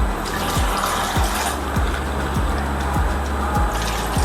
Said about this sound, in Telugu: దీంట్లోనే ఒక టూ గ్లాసెస్ వాటర్ వేస్తానండి నేను